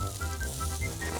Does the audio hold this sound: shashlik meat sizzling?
yes